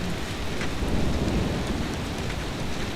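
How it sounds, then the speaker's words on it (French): A heavy rain downpour roars as a dense, constant hiss of countless drops, loud and unbroken, with no voices over it. "Et il s'est mis à pleuvoir, mais à pleuvoir. Oh, un vrai déluge."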